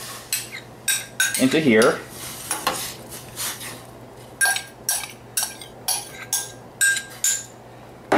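Chopped meat, onion and potatoes tipped into a cooking pot for a bean stew, with a run of clattering metallic knocks and scrapes against the pot, loud and close, and a few brief words spoken.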